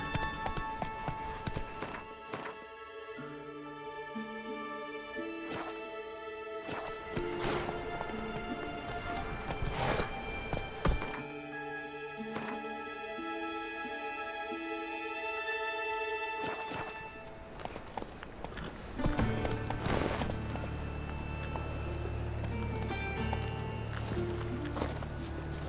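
Horse hooves clip-clopping at a run in The Witcher video game, a steady rhythmic beat under layered game music and ambience, with a brief neigh and no talk heard.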